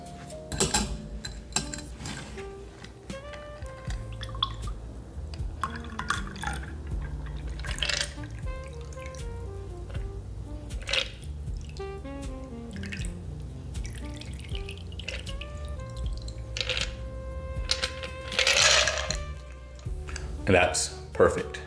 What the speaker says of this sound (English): It's very satisfying to pour it, and it comes like right up to the brim.